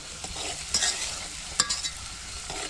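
Chopped onion frying in oil in a home kitchen pan, a steady crackling sizzle broken by a few sharper scrapes and clatters as it is stirred, close and fairly loud with no talking.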